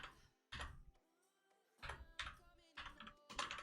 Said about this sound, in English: I apologize for my slow typing, but for some reason my keys are being very difficult with me today